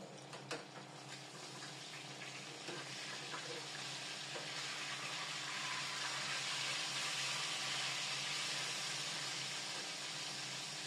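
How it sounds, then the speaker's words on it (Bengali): Hilsa fish frying in oil and being turned over, a dense, hissing sizzle that grows slightly louder and stays continuous, with a few faint scrapes early on and no talking. "এখন মাছগুলি একটু উল্টে পাল্টে ভেজে নিব।"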